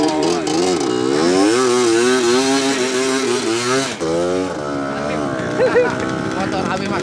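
Motorcycle engine revving hard while climbing a steep uphill road, the pitch rising and falling in repeated surges, loud and close, with shouting voices over it.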